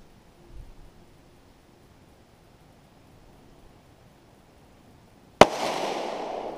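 A single sharp, close rifle shot from a Tikka T1X chambered in .17 HMR, cracking out of near silence and followed by a lingering noisy tail.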